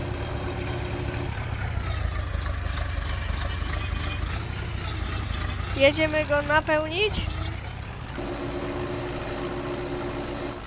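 A tractor engine runs in Farming Simulator 22 during a manure-spreading job, a steady low hum that carries through the whole stretch beneath continuous conversation, rising briefly in the middle.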